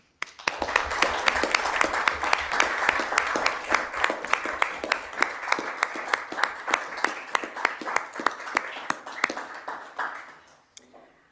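A council meeting audience gives a round of applause honoring volunteers, including one with 40 years of service: many hands clapping steadily for about ten seconds, sharp individual claps standing out, before it thins and dies away.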